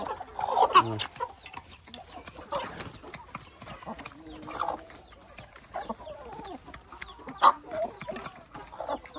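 Free-range country chickens kept at home cluck in short, scattered bursts near the recorder, with quiet gaps between the calls.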